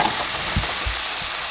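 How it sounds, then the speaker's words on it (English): Maple glaze and butter sizzle loudly around roasting carrots in a pan, a dense, steady hiss close up with a few soft low thumps as the pan or carrots shift. "So we've added our glaze. And this will kind of obviously finish cooking the carrots."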